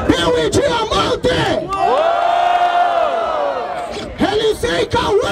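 A crowd at a rap battle in Barueri, São Paulo, cheers and shouts loudly, with a long rising collective roar in the middle framed by bursts of excited voices and whoops.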